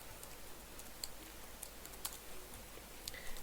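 Quiet typing on a computer keyboard, a loose run of soft key taps with a few sharper clicks spaced about a second apart, faint and close.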